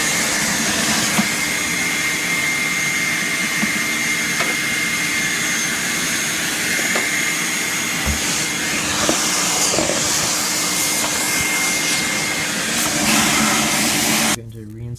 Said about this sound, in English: After a bunch of dremeling and test fitting to make sure it fits nice and tight.